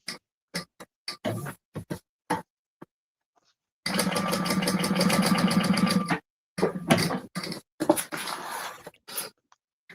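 A sewing machine stitches a bag in short stop-start bursts, then runs steadily for about two seconds before more quick irregular bursts, close and clear with no talk.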